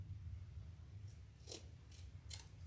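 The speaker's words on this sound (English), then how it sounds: "just trim off the lining" Scissors trim the lining of an all-leather waist pack in a few quick, faint snips spaced about half a second apart over a low steady background.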